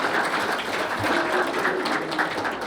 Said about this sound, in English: I think it's only fair and appropriate that you guys give yourself a round of applause.